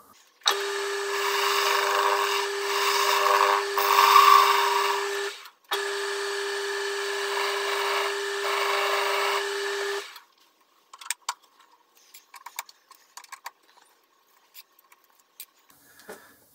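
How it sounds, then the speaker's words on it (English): A lathe faces a steel spindle block to length, giving a steady loud cutting whine with a strong tone that runs for about five seconds, breaks briefly, runs again for about four, then drops to scattered faint clicks and handling noises. "on this end we need to face it off to length and chamfer the bore"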